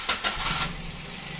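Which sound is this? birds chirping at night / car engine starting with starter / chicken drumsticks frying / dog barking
car engine starting with starter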